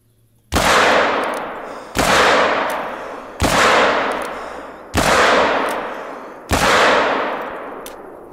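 Five loud rifle gunshots fired at a rhino in theHunter: Call of the Wild, each a sharp crack with a long decaying echo, spaced about one and a half seconds apart with no talk.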